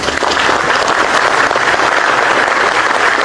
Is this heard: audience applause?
yes